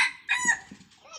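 A third-generation (F3) jungle fowl rooster crows close by, one short harsh cock-a-doodle call with a raspy, broken ending, heard on its own without talk.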